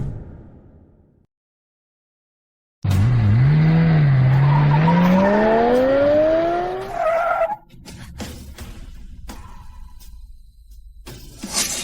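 A black car arrives and skids, its tires letting out a loud rising squeal for several seconds before an abrupt stop, followed by scattered knocks and bumps.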